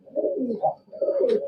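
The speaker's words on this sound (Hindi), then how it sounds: "ये कबूतर देखें, ये बड़े साइज का कबूतर आ गया।" A large pigeon coos twice in soft, low throaty phrases close by, with a brief pause between them and a faint higher chirp near the end.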